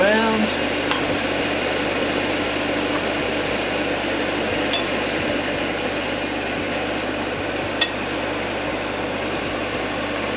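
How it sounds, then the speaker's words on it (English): A spoon stirs chili powder through a cooking snack, giving a steady close scraping and sizzling hiss with a few sharp metallic clinks of the spoon against the pan, no talking. "Put some chili powder on the spoon. Mix it all around."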